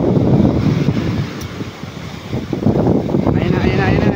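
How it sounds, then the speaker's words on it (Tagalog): Strong ocean waves surge and crash at Pasacao beach, close by and loud, with heavy wind buffeting the microphone. The roar swells and eases unevenly. "Lakas ng alon dito guys sa Pasakaw"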